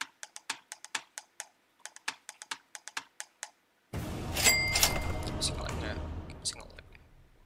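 Rapid clacking keystrokes on a Logitech keyboard, a quick irregular run of close, crisp taps for several seconds, then a burst of noisier background sound takes over.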